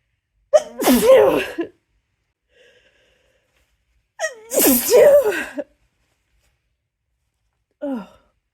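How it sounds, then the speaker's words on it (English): Two big sneezes from one person, each with a loud gasping buildup and explosive burst, separated by a few seconds of quiet breathing, followed by a short sigh at the end. "I can sneeze again."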